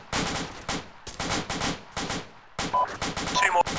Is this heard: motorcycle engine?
no